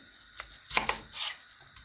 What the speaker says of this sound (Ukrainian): запалюю газ і